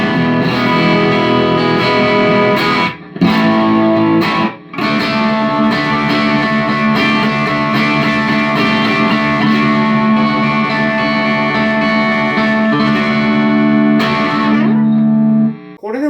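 Electric guitar played through a BOSS OD-3 overdrive pedal set to low gain, ringing sustained chords with mild grit and effects, loud and continuous with two brief gaps and a fading end, no talk.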